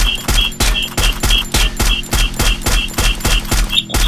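Rapid, loud bursts of gunfire in the Free Fire battle game, evenly spaced shots repeating about twice a second in a steady rhythm, close and punchy, with no talk over them.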